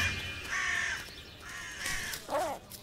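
A crow in Paris cawing, several harsh calls in a loose series, clear and fairly near against quiet city background, with no talk.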